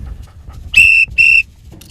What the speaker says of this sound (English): I'll be blowing this whistle.